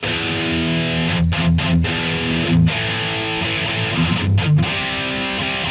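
A heavily distorted electric guitar in a classic metal tone holds thick, sustained chords, loud and close, with a few brief choppy breaks between phrases.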